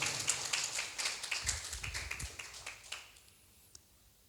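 A church congregation claps in a burst of fairly close hand claps that thin out and fade away, leaving near silence with a single late tap.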